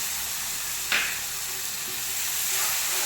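Tomato puree is poured into a hot pan and stirred while cooking soya chunks, giving a sharp hissing sizzle as it lands, followed by steady frying crackle and soft stirring, close and fairly loud.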